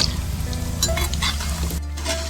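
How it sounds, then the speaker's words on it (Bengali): Potato and semolina snacks deep frying in hot oil, a loud, continuous close sizzle with occasional stirring scrapes and clinks of a utensil against the pan. "এরকম করে লাল লাল করে ভেজে নিতে হবে"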